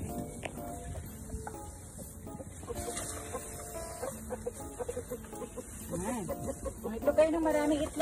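Free-range chickens on an egg-laying farm cluck repeatedly nearby, with scattered bird calls rising toward the end while a person talks over them.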